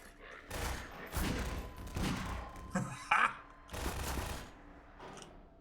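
Gunfire from a big weapon in Half-Life's Black Mesa Hazard Course, heard as several loud bursts of shots over about five seconds with short gaps between them.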